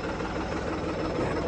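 A Mustang tractor engine runs steadily during turbo testing, a loud, continuous, rumbling roar with no pauses and no voices.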